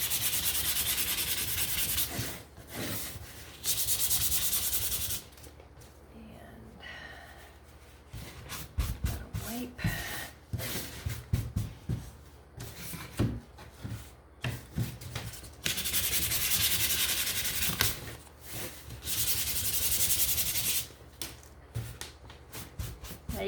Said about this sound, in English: I'm gonna come back over and I'm gonna give these a sand.